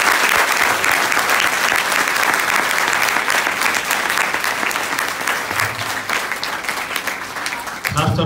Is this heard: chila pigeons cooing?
no